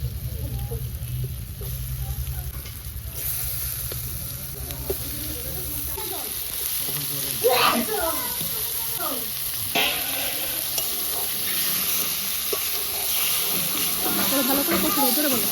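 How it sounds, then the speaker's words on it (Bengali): Chicken meat being stir-fried with spices and Kashmiri chili powder in a pan, a steady sizzle with a few scraping stirs, close, under faint background hum. "ভালো করে কষিয়ে নেব মাংস তো কষাচ্ছে"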